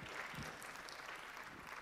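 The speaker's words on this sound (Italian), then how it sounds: "non volevo interrompere l'emozione dell'applauso" Audience applause at a sustainable economy forum on women's empowerment, a steady wash of clapping filling the room at moderate level, with no talk over it.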